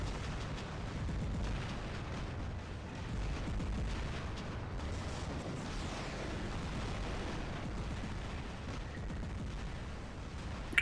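The Tempest heavy machine gun in a video game pours out continuous, rumbling fire, dense and heavy like a barrage, steady throughout with no talk.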